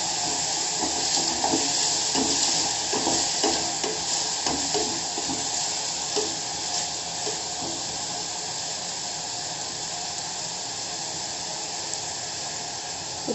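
Steady sizzling of mushroom soup ingredients sautéing in a pan, with occasional stirring scrapes, continuous and close with no talking.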